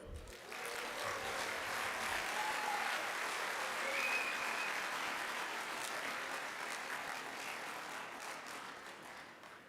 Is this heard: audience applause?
yes